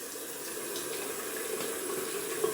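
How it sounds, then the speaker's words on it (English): Cold water running steadily from a tap into a sink while shaving, a continuous hissing splash at moderate level with no talking. "Gonna add some cold water to the face."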